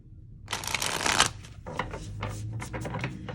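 Oracle cards with a soft, suede-like finish being riffled and bridge-shuffled close up, a dense papery flutter followed by softer, broken shuffling sounds, with a faint low hum in the background.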